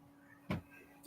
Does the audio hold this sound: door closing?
yes